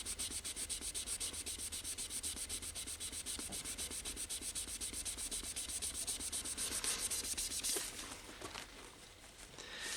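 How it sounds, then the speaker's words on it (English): A clean cloth wipes excess white spirit and leftover paint off an aged pinstriping finish. The rubbing is close and continuous, with a soft scratchy texture, and eases off near the end. No one speaks. "I'm using a clean cloth to wipe off the excess of the white spirit and the leftovers of the paint"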